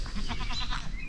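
Baby goats bleating, overlapping wavering cries repeating close by in a steady, continuous chorus with no talk.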